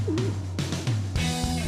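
Pigeons brought onto a film set coo in low, soft warbling calls, several short bursts close by with a steady hum of the set underneath and no talking.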